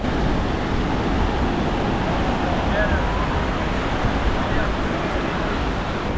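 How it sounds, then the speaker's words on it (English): Ocean surf breaking on the beach at Tulum, a steady broad wash of waves with wind rushing across the microphone, continuous and fairly loud. "And here's the beach. It's tremendous."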